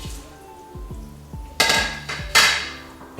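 Bacon is dropped into a pot of cooked-down kale for Zuppa Toscana soup, giving two sharp clattering bursts over a low repeating background hum, with no talking.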